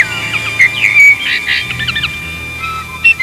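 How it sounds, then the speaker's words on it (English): A linnet sings in a recording, bright rapid chirps and short whistled trills in quick bursts over a faint low background hum. "I found, in fact, a recording of a very tuneful linnet"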